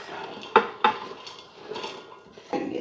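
Browned, degreased ground beef stirred into a pot of cheeseburger soup, with a couple of sharp utensil clanks against the pot among softer scraping and mixing sounds, close up with no talking.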